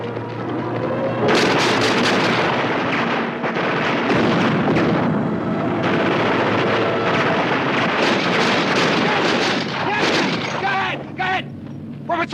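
Rapid gunfire and booming shots fired outdoors at an enemy, loud and dense with crackling bursts, mixed with shouting voices and wind buffeting the microphone.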